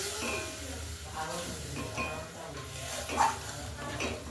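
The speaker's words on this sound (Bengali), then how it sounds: "একটু ভালোভাবে মশলাটাকে মিশিয়ে নেব।" A spoon scrapes and stirs spice paste with water in a pan for pabda fish curry, with soft clinks and a faint sizzle underneath, close and fairly quiet.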